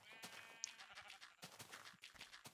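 Blocky sheep in the Minecraft video game bleating, with several wavering bleats repeating across the stretch at moderate level over faint game ambience.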